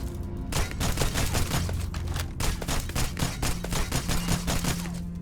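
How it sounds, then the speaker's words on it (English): Rapid gunfire from a shotgun in the space game Starfield, a dense barrage of sharp, loud blasts repeating in a steady rhythm over about five seconds with no voices. "This is a single shotgun."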